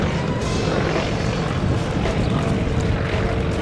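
North American T-28C Trojan, a carrier-capable propeller trainer with a Wright radial engine, at the Biscarrosse air show: a loud, steady broadband engine and propeller roar that holds close and constant throughout.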